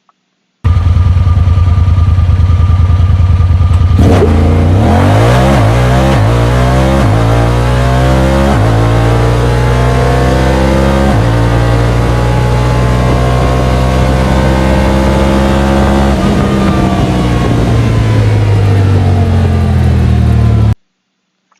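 Honda Talon 1000 side-by-side with an FCP (Florida Cracker Performance) tune on 28-inch stock tires roars through a hard acceleration run, the engine note climbing steadily and loud, close and continuous for about twenty seconds.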